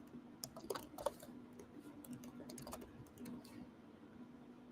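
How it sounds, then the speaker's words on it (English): Typing on a computer keyboard, a quick cluster of clicky keystrokes early on and then sparse, soft taps over a low steady hum, close but quiet. "I'm typing it so it can,"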